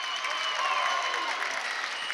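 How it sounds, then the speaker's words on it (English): A high school boys volleyball crowd applauds and cheers after a point in a gym, a dense, steady wash of clapping and voices lasting a couple of seconds. "Crowd is reacting to every single play."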